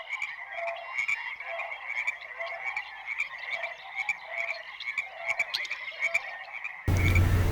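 A frog croaks continuously in dense, rapid pulsing calls, loud and close, ending with a brief burst of noise.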